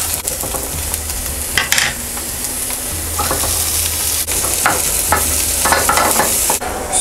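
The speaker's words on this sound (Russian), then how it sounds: "Вроде что-то жарится." Food sizzles and fries in a pan at home, a constant loud crackling hiss with intermittent sharp spatters and stirring scrapes, close up and with no voices.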